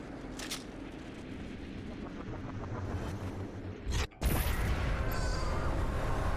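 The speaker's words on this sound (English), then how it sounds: "Just feed them some grenades." Grenade explosions in Doom Eternal, with a sharp blast near the middle after a brief drop-out and then a dense, loud roar of combat noise, over a steady rumbling game background.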